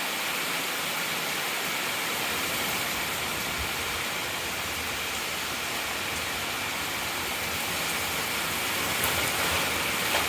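Steady rain falls on a garden during a heatwave, a dense, unbroken hiss of drops on leaves and ground that stays loud and even throughout, with no voices.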